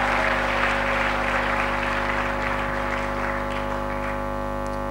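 Church congregation applauding and cheering during a sermon, a steady broad wash of clapping that stays loud throughout with voices mixed in.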